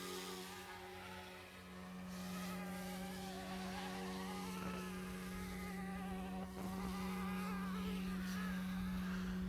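A small RC helicopter with a brushless tail rotor spins up, giving a steady buzzing motor whine with a strong sustained hum and rising harmonics, continuous and moderately close with no talk.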